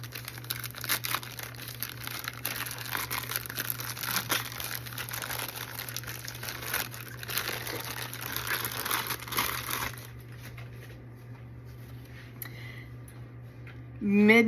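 A bag cut open and crinkled close by, with steady crumpling and rustling of the packaging for about ten seconds before it quiets down into near silence.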